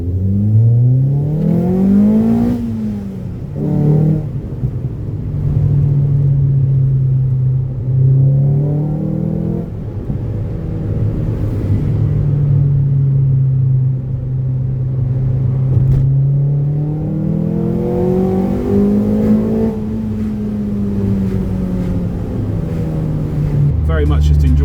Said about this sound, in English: I've just opened the window next to me so you can really hear that inlet.